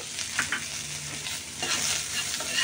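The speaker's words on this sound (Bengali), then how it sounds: "ভাজতে ভাজতে শেষ পর্যন্ত যখন পেঁয়াজ, রসুন, কাঁচামরিচের কালারটা একটু চেঞ্জ হয়ে আসবে" Onion, garlic and green chilies with frozen coriander frying in a pan for a spicy chili mash, soft steady sizzling with a few light stirring scrapes, close and fairly quiet.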